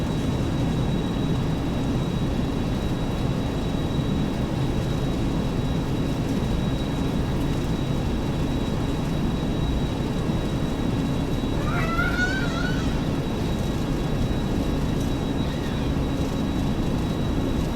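A Boeing 737-200 in a flight simulator game accelerates down the runway on its takeoff roll, a steady, loud jet engine roar holding throughout with a brief chirping whine near the middle.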